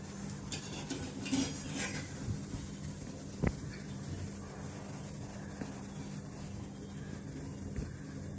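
Fried besan shev lifted out of hot oil, with a steady low sizzle and bubbling under light clinks and scrapes of a slotted spoon, one sharper metallic knock midway, close and without talk.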